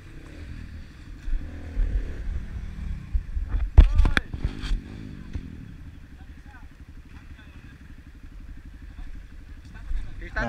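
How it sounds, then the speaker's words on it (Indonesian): A motorcycle being started on a mountain forest trail on Mount Raung: a brief burst of engine cranking and revving mid-clip, then a low steady idle, with people talking over it. "Jadi mau dicek juga motornya. Ini dicek dan dicoba dinyalain."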